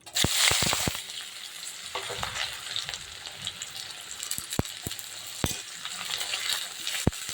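Onions sizzle and crackle steadily in hot oil after cumin seeds have browned, with a few sharp clinks and stirring scrapes breaking through the frying hiss.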